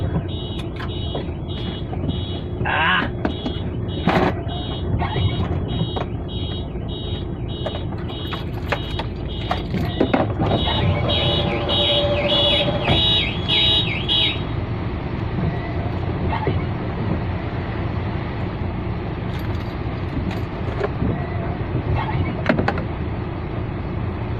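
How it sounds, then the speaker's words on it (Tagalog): A vehicle alarm beeps in a fast, regular series while loading at the port of Zeebrugge, Belgium, stopping partway through, then a brief higher tone, with engine rumble and clanks from the loading area underneath. "Nag-a-alarm."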